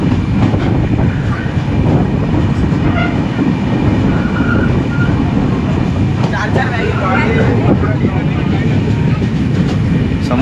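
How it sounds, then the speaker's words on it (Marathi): The Mandovi Express rolls along the rails with a continuous rumbling clatter and rhythmic wheel clicks heard from inside the carriage, while voices murmur faintly beneath the steady train noise. "मांदावरून गाडी सुटलेली आहे"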